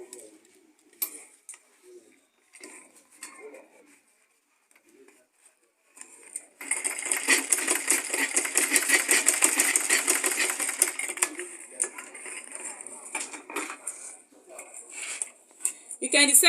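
A sewing machine stitching a leather purse, a rapid, steady mechanical rattle running for several seconds after scattered handling clicks, with a person talking around it.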